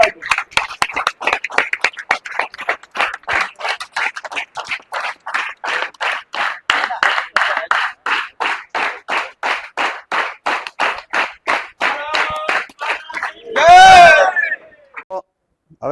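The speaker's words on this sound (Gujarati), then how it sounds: "ગોપાલભાઈ વચ્ચે હું તાળીઓ પાડું" A crowd at the Sardar Sanman Yatra 2025 tree-planting event claps in unison, sharp, evenly spaced beats that keep a steady rhythm for many counts before a loud shout rings out near the end.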